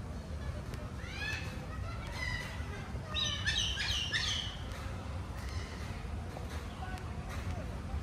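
Birds in the trees of a Jakarta street chirp and tweet in short bursts over a steady wash of city noise, with a cluster of calls partway through.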